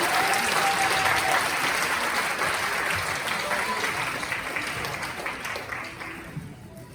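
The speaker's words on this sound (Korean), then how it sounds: "박수 부탁드립니다." An audience at a live Sunday afternoon church radio-show event applauds, a dense wash of clapping that holds loud and steady, then slowly fades toward the end.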